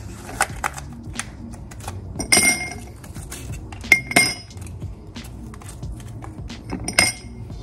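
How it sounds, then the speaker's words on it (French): Four ice cubes are dropped into a glass for an iced American coffee, giving several sharp, bright clinks and knocks spread out over a few seconds, with quieter rattles between them. "et on met la dose de glaçons"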